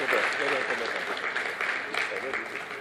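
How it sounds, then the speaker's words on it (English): An audience at a mentors conference applauds in a continuous wash of clapping that swells early and fades slightly toward the end, fairly close and full. "Can we give him an applause, please?"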